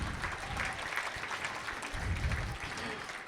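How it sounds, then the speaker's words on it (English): A room applauding a young man named Ron at an opening-remarks gathering, with moderate clapping running throughout, some low thumps and voices mixed in beneath it. "Ron, if you can give him a round of applause"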